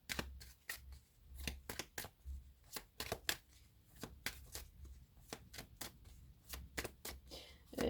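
Tarot cards are shuffled and drawn in rapid, close, papery slaps and flicks, uneven bursts of sharp snaps that continue throughout at a soft level.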